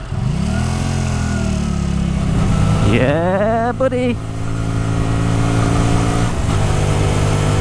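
Hyosung Aquila 125cc motorcycle engine revving up through smooth clutchless upshifts, pitch climbing and dropping with each gear change, loud and close under brief rider talk.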